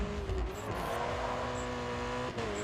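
Race cars in GRID 2 at a race start, a steady engine drone with a faint tire squeal and a passing car, moderately loud and continuous with no talk.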